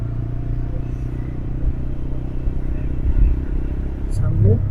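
Motorbike ridden along a dusty forest track in Jaypur Forest, its engine a steady low drone with clattering and a brief rev near the end, under close talking from riders on the bike.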